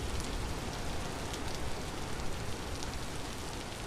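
Steady rain in the survival game Vintage Story, a constant fine hiss of drops spread evenly across the whole stretch with no talk over it.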